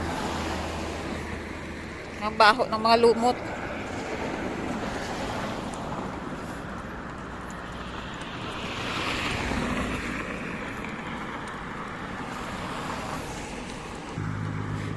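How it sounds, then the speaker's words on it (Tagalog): Steady surf washes in at high tide under wind noise, with a brief close voice and a short clattering sound early on. "Papasok yung tubig. High tide. Mataas ang tubig."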